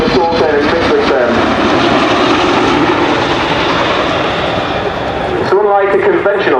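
Heavy, steady rotor and turbine roar of a Chinook helicopter doing a pedal turn at an air show, loud and sustained under a commentator speaking continuously over a public address.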